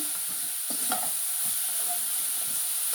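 Salted cauliflower fries in a pan with a steady, close sizzle and hiss, broken by a few soft stirring scrapes as the pieces are tossed.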